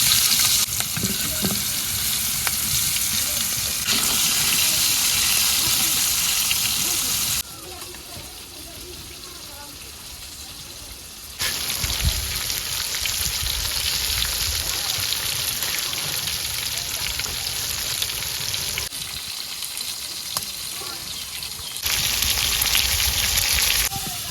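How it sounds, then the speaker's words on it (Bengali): Tomatoes sizzling and frying in hot oil in a wok in a village kitchen, a loud crackling hiss that drops off briefly mid-way and then surges back, with a voice talking over it at times. "টমেটো দিয়ে দিলাম তেলের মধ্যে।"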